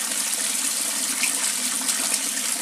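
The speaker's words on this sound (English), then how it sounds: "a valve on there to regulate the flow of water going out of the pond into 200 litre barrel via that output line there" Water pumped from an aquaponics fish pond runs through a T-junction and valve into a 200 litre barrel, giving a steady, continuous rushing flow that stays even throughout with no talk.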